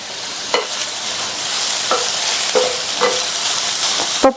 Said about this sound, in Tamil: இந்த காய் எண்ணெயிலேயே வதங்கி 3/4 பங்கு அளவுக்கு வெந்து வரட்டும்.